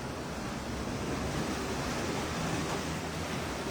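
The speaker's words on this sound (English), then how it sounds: "the water's a little rough because we've had some beautiful, beautiful changes in the weather lately" Rough sea water and waves off the coast of Jamaica after a change in the weather, heard as a continuous, fairly quiet wash of surf with a faint wind-like hiss and no talking.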